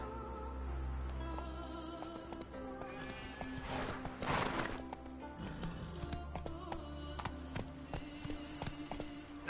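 Roach, a horse in a video game, gallops and whinnies, with rhythmic hoofbeats running under a sustained musical score, a neigh rising briefly midway, all at moderate level with no talking.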